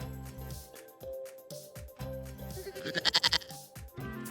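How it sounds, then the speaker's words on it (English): A goat bleats several times in a wavering, repeated call, the last cry climbing higher with a rapid quivering pulse, heard close and without speech. "Goat."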